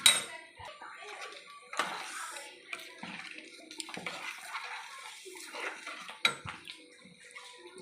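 Boiled tadka dal and fried eggs going into a pan of spiced masala for egg tadka, with wet splashing, sloshing and scraping, a few clanks of utensil on pan, fairly close and irregular.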